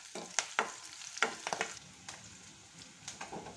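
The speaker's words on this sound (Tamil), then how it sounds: "காய்ச்சதை குழம்புல ஊற்றிடலாம்" Hot tempering with curry leaves is poured into kuzhambu, giving short bursts of crackling sizzle with sharp pops and clinks that fade to a soft, low hiss.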